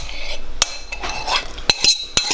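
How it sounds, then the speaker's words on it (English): Steak tartare ingredients of beef, shallots and egg being mixed in a bowl, with a few sharp utensil clinks against the bowl over soft scraping and stirring, close and fairly loud. "All we have to do is mix the whole thing together in a bowl."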